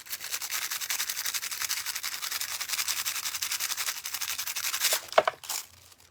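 Foil is rubbed onto a cleaned, primed and painted oyster shell, giving a soft, steady scratchy rubbing close by, ending in a few sharper crinkles and a brief knock before quieting.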